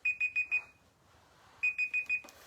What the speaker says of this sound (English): whoops, that's my timer.